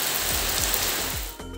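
Heavy monsoon rain in Konkan, a dense continuous hiss of drops on surfaces, loud and close, easing slightly near the end, with no voices.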